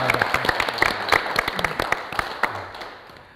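A studio audience at a Kyrgyz family game show bursts into brisk applause of many hands, loud at first and thinning as it fades out over a few seconds.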